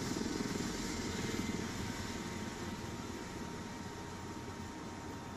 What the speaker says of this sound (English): the rotor I don't think's actually stopped yet, or very close